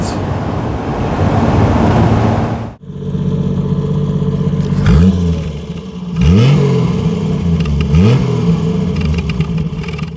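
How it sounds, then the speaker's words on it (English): A Triumph GT6 sports car engine roars loudly, then cuts briefly before several sharp revving blips rise and fall in quick succession, close and alone with no talk. "That was the Triumph GT6."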